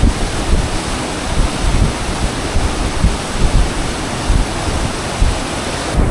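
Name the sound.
Bhagirathi (Ganga) river rushing at Gaumukh glacier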